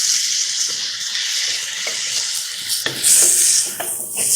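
A Sri Lankan-style chicken and vegetable stew with lentils bubbling in a pot, with a loud steady hiss and sizzle and a few scraping stirs near the end.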